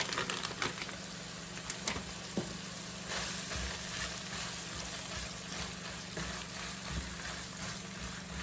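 Hamburger meat fries with onions, green and red peppers and parsley in a pan, giving a steady, close, continuous sizzle with occasional soft scraping clicks from stirring and no talking.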